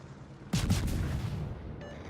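Ship guns firing in World of Warships from a Shimakaze destroyer: a sudden loud boom onset followed by a sustained rumbling roar that slowly tails off, with no talk.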